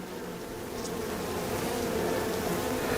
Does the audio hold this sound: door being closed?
no